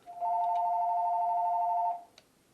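A mobile phone rings during the teardown and repair of an FW200 Fly Wing, giving one steady electronic tone that holds for nearly two seconds, loud and close, with no talking over it.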